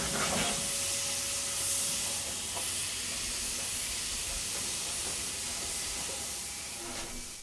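Steam locomotives hiss steadily across a large locomotive depot yard in Fuxin, China, a continuous broadband spray of steam with faint rail clanks and tones, filling the scene without speech.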